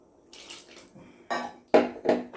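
A metal pot and utensils clank and scrape as the pot is washed with hot water, with a few sharp knocks growing louder toward the end.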